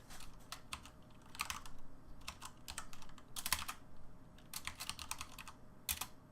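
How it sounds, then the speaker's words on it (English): Quiet bursts of keystrokes on a computer keyboard as a terminal command is typed, irregular clusters of clicks with short pauses between them, fairly close and faint. "the way to fix that is to type in mv"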